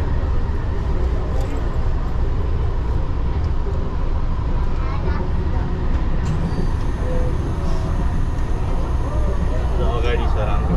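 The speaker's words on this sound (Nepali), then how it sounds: "त्यो ट्रेनले अलिकति आफ्नो दिक पत्ता लगाएर दौडिरहेको छ" Driverless train running from Suwon toward Everland in South Korea, a steady loud rumble of rolling wheels and interior noise throughout, with faint voices in the carriage.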